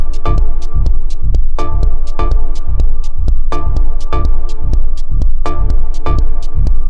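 A FabFilter Twin 3 software synthesizer plays a loud, dense, rhythmic pattern of punchy bass pulses and bright percussive hits, repeating steadily throughout with no talking.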